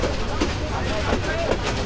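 The Mohanagar Express from Chittagong to Dhaka slows on the approach to Brahmanbaria station, its carriages rumbling with a low, steady rattle and faint rhythmic clatter heard from inside the train.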